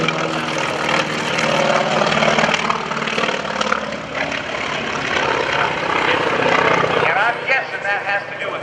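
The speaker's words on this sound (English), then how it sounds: "The way this airplane sounds, we hear the propeller tips going supersonic" An FM-2 Wildcat propeller warplane roars past loudly at an airshow, its throaty engine drone with supersonic propeller tips swelling and shifting in pitch as it passes nearby.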